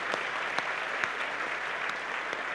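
An audience at a political conference on sovereignty and leaving the EU applauds, a brief, moderately distant burst of steady clapping with no talk over it.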